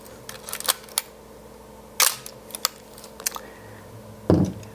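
A Nikon F3 35mm camera fires its shutter several times, giving crisp close mechanical clicks and snaps at irregular intervals, with a heavier clack near the end, in a quiet room.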